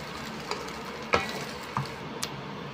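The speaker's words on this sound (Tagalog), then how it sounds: "Ayan po natin yung ma-scramble ng itlog" Spatula stirring and scrambling egg in a frying pan, a low steady sizzle broken by a few separate scraping knocks against the pan, close and alone without speech.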